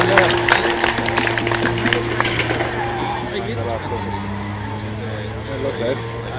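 An Escort rally car at a BDC event at Lyden Hill runs round the course, its engine holding a steady drone with some skidding and gravel noise, while an announcer talks over it throughout.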